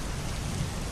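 Steady rain with a dense, even hiss and low rumble, continuous and fairly loud throughout, falling alone with no voices, suited to a sleep soundscape.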